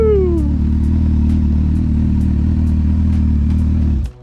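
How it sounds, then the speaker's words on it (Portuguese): A Honda CB1000 motorcycle engine runs close by, rising briefly in pitch at the start and then holding a steady, loud low rumble before stopping. "Rapaziada, estamos chegando em casa, já trazendo a CB1000."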